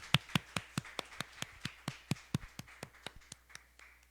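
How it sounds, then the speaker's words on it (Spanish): Rhythmic, evenly spaced claps in a church service, about twenty sharp beats at a steady pace, fairly close and quiet, with no talking over them. "Démosle un fuerte aplauso a nuestro Señor."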